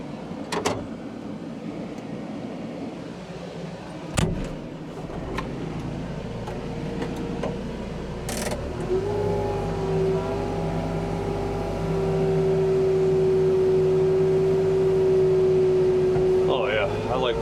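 An excavator works with an Eastonmade MS324 log splitter on huge logs, its engine rumbling steadily underneath while a rising hydraulic whine builds and holds, with a few sharp knocks early on.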